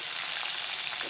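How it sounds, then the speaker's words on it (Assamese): Pieces of fish fry in oil in a kadai, giving a brief, steady sizzling hiss with faint crackles and no speech. "এয়া এইফালে মোৰ মাছখিনি ভজা হৈ গ'ল"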